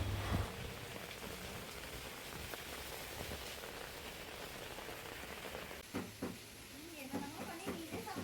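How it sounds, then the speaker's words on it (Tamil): Steady rain falling outdoors near a home cooking area, a soft continuous hiss with scattered drip taps, fairly faint, and a few brief knocks and rustles near the end. "இதுக்கப்புறம் பார்த்திங்கன்னா நல்லா இந்த மழை பெய்யறது"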